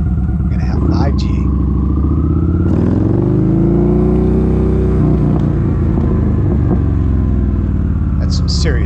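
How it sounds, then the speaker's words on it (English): A motorcycle fitted with a Thor exhaust rides along a street, its loud engine revving up and settling, with a crackling, popping exhaust note that stays close and dominant throughout. "That's some serious crackle off that Thor exhaust I have."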